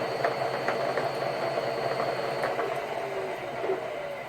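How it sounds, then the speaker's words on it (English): A Toyota Prius transaxle with a welded power split device, driven by an inverter-controlled motor, gives a steady mechanical whir and hum with faint tonal whine. The sound stays at a constant level throughout, with no voices. "Go Prius transaxle with welded power split device and no throttle input"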